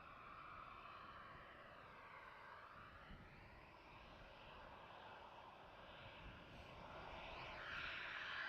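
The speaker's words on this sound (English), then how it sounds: "there goes that Embraer 159 to London Heathrow" An Embraer 159 jet departing toward London Heathrow at night from Schiphol's runway 36L, its engine roar steady and fairly distant, slowly building louder toward the end with no voices.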